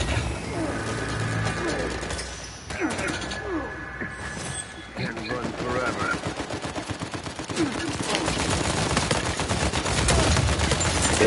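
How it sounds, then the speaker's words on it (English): Blind-fire gunfire in Uncharted 4 multiplayer, dense rapid bursts of shots and clattering impacts running almost the whole time, loud and close, with a brief lull in the middle. "This is how you blind fire."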